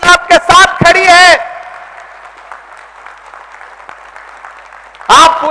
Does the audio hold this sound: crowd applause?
yes